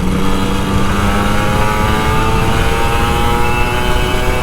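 Kawasaki Ninja RR 150 motorcycle, an older model, ridden at full throttle, a loud, close, sustained high engine whine with heavy wind rush, steady for the whole stretch with no talking.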